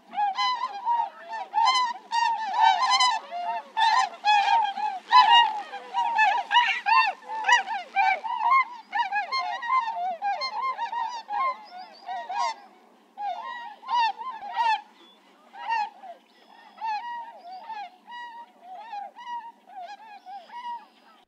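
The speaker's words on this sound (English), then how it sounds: "Swans during a stereo flyover." Many swans honk repeatedly in a loose chorus during a stereo flyover, their calls overlapping and passing overhead, recorded with a parabolic microphone, fairly clear against a quiet background.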